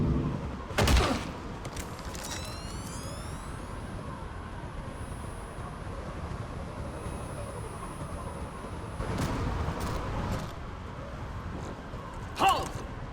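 Bursts of gunfire in the Mass Effect 3 video game, sharp volleys near the start and again late on, set against a low rumbling background and a faint high whine.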